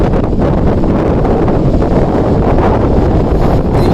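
Strong wind at Bagasbas, Bicol, roars steadily into the microphone, a loud continuous buffeting rumble with no letup throughout.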